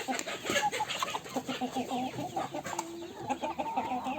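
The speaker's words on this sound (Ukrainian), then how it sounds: "Ось, дуже багато в мене тут півнів, надзвичайно багато." French Marans roosters and hens clucking and calling all around at close range in a busy poultry yard, a dense overlapping chorus of clucks with occasional crowing notes.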